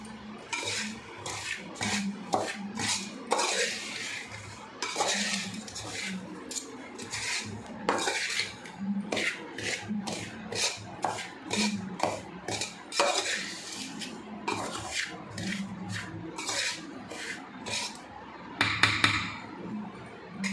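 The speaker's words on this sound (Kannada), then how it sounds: "ಈ ಸ್ವಲ್ಪ ಸ್ವಲ್ಪ ತುಪ್ಪ ಹಾಕಿ ಕಲಿಸ್ಬೇಕು" Hands mixing roasted gram (hurigadle) thambittu dough with ghee, giving a steady run of close scraping, rubbing and clinking against a metal bowl, continuous for the whole stretch with no talking.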